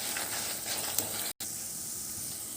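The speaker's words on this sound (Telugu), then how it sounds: "ఈ 3 వేసుకుని 1 నిమిషం పాటు బాగా వేయించాలి." Dried red chilies, coriander seeds and chana dal fry in hot oil for restaurant-style sambar, giving a steady close sizzle and hiss throughout, broken by one brief cut of silence, with no voices.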